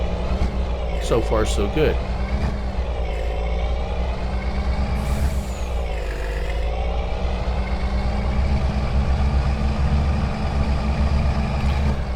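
A Lizard RJL truck in Farming Simulator 22 drives with a steady, loud engine drone and shifting pitch, with a brief air hiss midway; someone speaks briefly over it early on.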